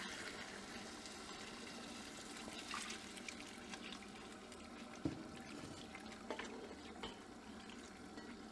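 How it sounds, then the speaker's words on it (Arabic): Boiling water pours steadily over chicken in a cooking pot, giving a continuous splashing, bubbling wash of liquid at close range with a few small knocks, no voices. "وهلا بجيب مي سخنة عم تغلي غلي بنزلها عليهم"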